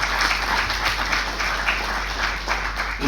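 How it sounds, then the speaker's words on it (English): Audience applause at the Ghana Tertiary Awards ceremony, a steady wash of many hands clapping from a crowd, moderately loud and continuous without talk. "Please, a round of applause for everyone on the team."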